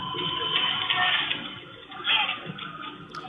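Firefighters' hose stream sprays water onto a burning structure, a continuous rushing hiss that swells and eases at moderate distance, with faint voices in the background.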